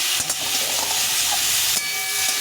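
Tomato sautéed with bote greens in a pan, a constant loud sizzling hiss with occasional stirring scrapes, close and continuous.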